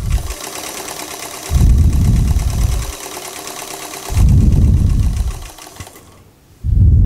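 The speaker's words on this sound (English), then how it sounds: "So my first row of gathering stitches, straight stitch, long length." A sewing machine running a long straight gathering stitch through dress fabric, close and loud, in bursts of rapid, steady mechanical whirring separated by short pauses.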